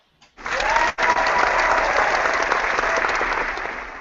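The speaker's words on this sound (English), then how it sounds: "No, it's supposed to be applause." Canned applause effect played during a comic book talk show, starting abruptly after a brief silence, a dense, bright crowd clapping with a momentary dropout near the start, then holding steady before gently fading.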